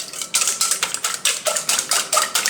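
Pumpkin spice cookie batter being stirred with vanilla in a bowl: a steady run of scraping, clinking strokes from a utensil, repeated about ten times in a quick even rhythm, close and fairly loud with no talking.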